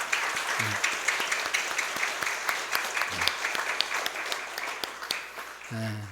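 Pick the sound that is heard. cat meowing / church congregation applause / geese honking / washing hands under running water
church congregation applause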